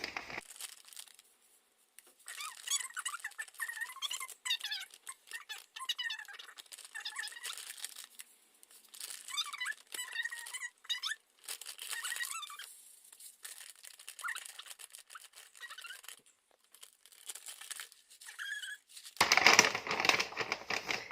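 Seeds are tipped from several bags into a multi-seed sourdough mix, giving soft crinkling bag rustles and light pattering of small seeds in irregular bursts, fairly close and quiet, ending with a brighter crackling rustle.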